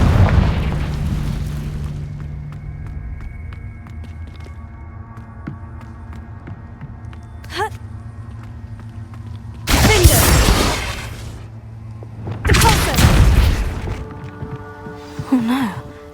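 Confringo spell explosions in the video game Hogwarts Legacy: a deep boom opens, then two separate loud fiery bursts roar for about a second each amid a low ambient drone, with a brief whoosh between them.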